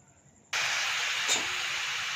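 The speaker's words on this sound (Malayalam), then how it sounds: "നമുക്ക് ഈ പപ്പടം ഒന്ന് വറുത്തെടുത്തിട്ട് വരാം." Papadam dropped into hot oil in a home kitchen: after a brief quiet moment, a loud, sudden sizzling hiss erupts and holds steady, close up, with no talking.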